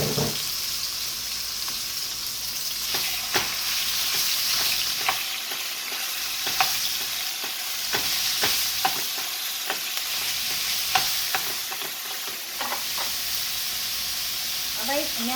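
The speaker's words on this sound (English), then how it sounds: "Put the chopped meat in." Chopped meat for tacos sizzles and crackles in a hot pan on high heat, a loud continuous frying hiss with scattered sharp pops and stirring clicks throughout.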